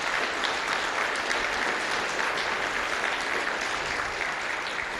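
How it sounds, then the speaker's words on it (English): Sustained applause from a conference audience at a programming languages event, steady dense clapping filling the room for several seconds with no break. "So give them a huge round of applause"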